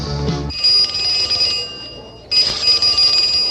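A telephone bell rings in two loud, close bursts separated by a short gap, the first opening with a brief musical tone before the bright metallic ring takes over.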